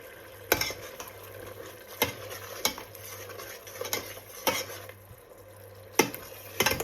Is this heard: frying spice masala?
yes